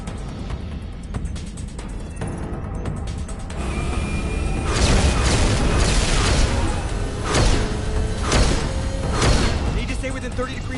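Heavy booms and crashing explosions from a ship firing on a Skycar in the video game Mass Effect, starting quieter, then swelling into a dense, loud barrage of repeated blasts over a steady rumble.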